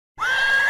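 After a brief silence a horse starts a loud, close whinny that holds a steady pitch to the end, heard alone with no speech; a horse of the kind grazed on wooded and coastal meadows.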